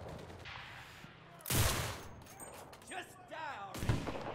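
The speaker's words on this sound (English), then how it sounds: "This sniper could be my favorite one with the Kar 98" Loud Kar 98 bolt-action sniper rifle shots in the World War II shooter Enlisted, Tunisia campaign, two sharp blasts spaced a couple of seconds apart amid battle noise, with a brief spoken line between them.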